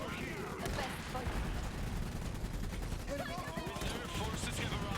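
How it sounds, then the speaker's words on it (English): Rapid bursts of light machine gun fire rattle against enemy gunners in the real-time strategy game Iron Harvest, with dense crackling shots and battle noise under steady distant-sounding chatter. "if the light machine gun shoots at the gunners, they should not do a whole lot of damage"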